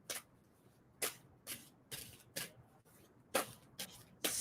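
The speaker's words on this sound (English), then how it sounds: "And so I'm going to stop shuffling." Tarot cards are shuffled by hand in quiet, crisp bursts of riffling. About eight short, close shuffles follow one another with brief pauses between them.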